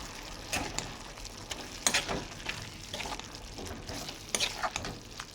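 Broad bean and tomato curry being stirred in a pan after salt is added, a soft scraping and sizzling with a few sharper spoon clinks against the pan, steady and close.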